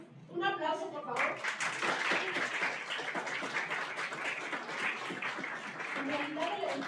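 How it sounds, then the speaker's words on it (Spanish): An audience claps at a women's organising gathering in the Alto Mezquital and Sierra Alta of Hidalgo, a dense, steady patter of many hands sustained for several seconds, with a voice speaking briefly over the start and end. "Un aplauso, por favor"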